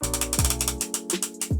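Small plastic missile pod on a toy G.I. Joe USS Destroyer battleship turning on a ratchet, a quick run of close, crisp clicking pawl ticks in a short burst.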